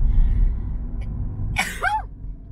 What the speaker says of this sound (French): C'est pas tes notifications pourries de téléphone quand tu fais des trucs, c'est éternuement.